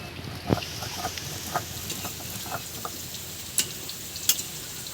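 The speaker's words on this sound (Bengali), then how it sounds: "আর সেই তেলের মধ্যে দিয়ে দিয়েছি ফুলকপি বন্ধুরা" Potatoes and cauliflower sizzle in hot oil, a steady low crackle broken by a few sharp spatula clicks and pops against the pan, heard close with no talking.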